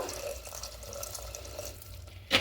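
Water poured from a kitchen tap or vessel into a pressure cooker holding potatoes, a soft continuous trickle with a brief louder splash at the end.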